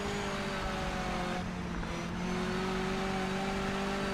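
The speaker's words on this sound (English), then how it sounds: "You always love the sound of the GTE Porsche in MS2 compared to what's in this game." In the Project Motor Racing video game, a GTE Porsche race car engine drones and revs steadily with sustained tonal harmonics, loud and continuous for the whole stretch.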